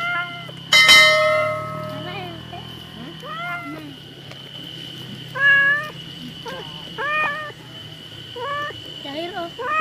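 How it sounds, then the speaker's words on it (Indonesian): A cat searching for fish meows repeatedly in short, rising cries spread across the clip, close by, with a sharp clang near the start and a faint steady hum underneath. "kucingnya cari ikan guys."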